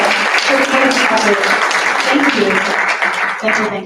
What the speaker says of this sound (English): Can you please clap for